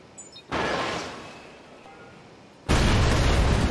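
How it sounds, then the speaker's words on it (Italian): Explosions in the Watch Dogs video game: a loud blast erupts and slowly decays into a rumbling roar, then a second, even louder blast cuts in abruptly and holds strong. "Esplosione."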